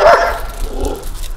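A Saluki being rehabilitated for aggression gives a single brief bark at other dogs during a walk, followed by quiet outdoor ambience.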